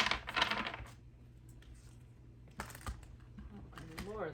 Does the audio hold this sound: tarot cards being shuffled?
yes